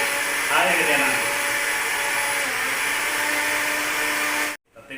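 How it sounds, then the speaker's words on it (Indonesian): Kitchen blender pulverizing tomatoes, a loud steady whirring motor that runs continuously, its pitch shifting slightly as the fruit breaks down, then cuts off abruptly near the end. "Jadi kita akan blender sampai dia hancur sebab kita akan ambil air dia nanti."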